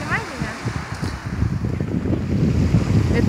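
Sea waves and wind at the seashore at sunset, rough wind buffeting the microphone over a rising wash of surf that swells louder toward the end.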